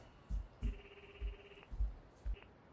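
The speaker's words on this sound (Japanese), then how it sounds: "電話も出ないし、トメさん何かあったのかな。" A telephone ringing unanswered in a Mob Psycho 100 anime episode, electronic ring tones repeating in a steady pattern over soft low thumps, fairly quiet and not loud.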